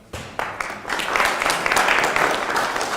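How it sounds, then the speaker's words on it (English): Seminar audience breaks into applause, starting with a few scattered claps and swelling into steady, dense clapping from a room full of people. "I would like to invite the whole floor to give a huge clap to our presenters"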